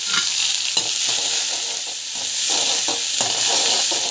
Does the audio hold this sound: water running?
no